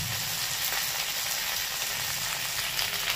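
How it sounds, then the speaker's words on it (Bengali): Half a tomato drops onto lightly fried okra in a pan, for a sour fish curry with mango; steady close sizzling and crackling fills the whole stretch without speech. "ভেন্ডিটাকে হালকা ভেজে নিয়েছি, এবার দিয়ে দিচ্ছি টমেটো, হাফ টমেটো দিচ্ছি"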